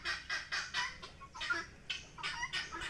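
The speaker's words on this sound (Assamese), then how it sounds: "বাহিৰত আৰু ভিতৰত থকাৰ কাৰণে কুকুৰাকেইটা বেছি চিল্লাই আছে" Chickens cluck nearby on a farm with turkeys, in a rapid series of repeated bursts, about a dozen quick calls with short gaps between them.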